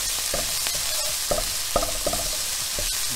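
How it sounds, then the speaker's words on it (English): A spoon scrapes and knocks around a hot pan as mild curry powder is stirred into sizzling chicken tikka masala, with irregular clinks over a constant frying hiss. "1 teaspoon of curry powder. It's a mild curry powder. I'm just going to stir that up a bit."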